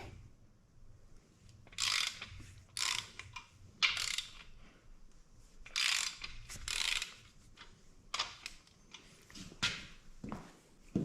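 Ratchet clicks as main bearing cap bolts on a small block Chevy 339 stroker are loosened, sharp mechanical bursts recurring every second or so, close and fairly quiet, with no talk.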